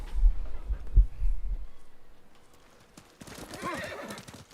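A horse in Ghost of Tsushima whinnies loudly up close, its hooves clip-clopping in a quick galloping rhythm before a fainter second whinny rises near the end.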